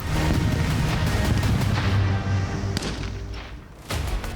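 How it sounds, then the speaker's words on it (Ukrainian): A heavy TNT charge blast during a military training exercise booms and rumbles loudly at the start, followed by a couple of sharper thuds later, all outdoors with no talking. "інструктори заклали вибухові установки, зокрема тротилові шашки, які за командою імітували вибух"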